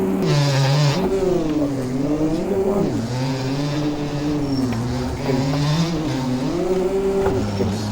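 Two-stroke dirt bikes in MX Bikes on the Wilderland track rev hard, a loud continuous buzzing engine whine rising and falling in pitch as the throttle opens and closes.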